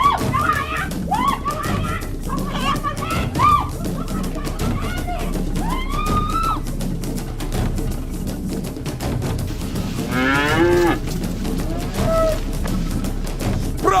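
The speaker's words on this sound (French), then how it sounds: "Prends cette vache." Cattle low and bellow several times amid a busy outdoor scene, the calls rising and falling under overlapping shouting voices and crowd noise.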